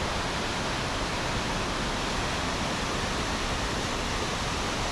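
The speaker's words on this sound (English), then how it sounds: "arrive at Colwith Force Waterfall, which again is impressive after heavy rain, with a drop of about 15 metres." Colwith Force waterfall in full spate after heavy rain, a 15-metre drop producing a steady, dense roar of rushing water, constant and enveloping with no other sounds.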